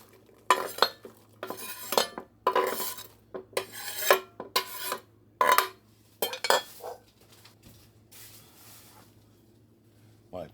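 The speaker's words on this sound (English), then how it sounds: "Throw my chopped onions in that crock pot." Chopped onions tipped and scraped into a crock pot, heard as repeated rasping, scraping bursts of a utensil against a dish, close and fairly loud, trailing off into quieter rustles.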